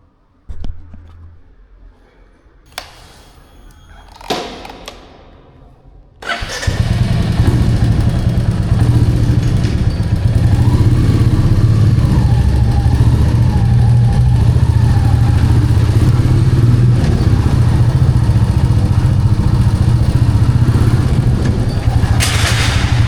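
Royal Enfield Meteor 350 motorcycle on a night ride, heard from the rider's position: a few faint clicks and knocks at first, then the engine fires up into a loud, steady single-cylinder thrum with wind noise that carries on to the end, with no talk.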